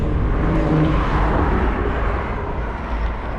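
A car revs hard in Poltava city traffic, a broad, rough engine roar that stays fairly loud and then eases slightly toward the end, with no voices over it.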